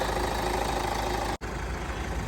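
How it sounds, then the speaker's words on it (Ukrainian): Kia Sportage 2.0 CRDi diesel engine idling, a steady even rumble heard close and fairly quiet, broken by one very brief dropout midway. "Мотор працює чітко, рівненько, як швейцарський годинник."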